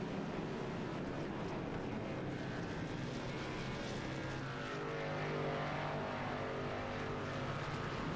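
Sim racing video game race cars lapping a Las Vegas oval under wearing tires, a steady loud broadband engine roar and tire rush that swells slightly midway, with no speech.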